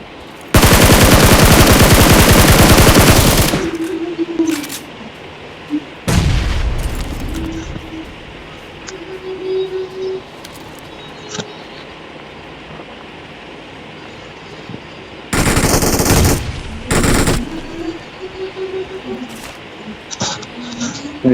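Bursts of automatic gunfire in a battle royale shooter game, loud rapid volleys near the start and again later, with quieter single shots and game noise between, while players talk over it.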